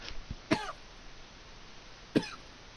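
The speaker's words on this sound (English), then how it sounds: "Made me cough, dude." Two short, sharp coughs from one person, close and distinct, spaced well apart over a faint background hiss.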